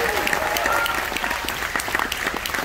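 A crowd of about 900 guests at a live close-up magic show applauds a female volunteer, dense steady clapping filling the room, fairly loud and sustained with no one speaking over it.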